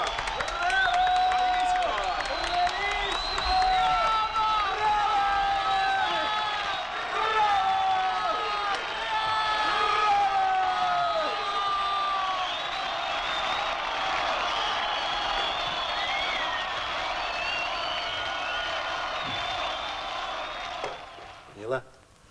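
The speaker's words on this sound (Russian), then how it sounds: "Начинайте аплодировать." Sustained audience applause and cheering in a Russian radio play of Great Magic, a dense crowd roar with lively voices running throughout, fading near the end.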